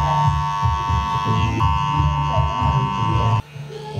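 Electric hair clippers fitted with a number 1 guard, giving a close, loud steady buzzing hum that changes tone as they work through hair, then drops abruptly near the end, with a voice talking over it.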